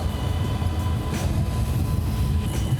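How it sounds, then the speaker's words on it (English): A train passes close by in a city, a loud continuous rumbling roar with rattling wheel noise that holds steady throughout. "Bye-bye train."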